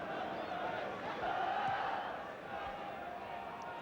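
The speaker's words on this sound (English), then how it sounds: "And the crowd again are on their feet, applauding." A packed football crowd at a 1981-82 FA Cup fourth round match between Blackpool and Queen's Park Rangers, standing and applauding, a broad steady roar of clapping and cheering from a distance throughout.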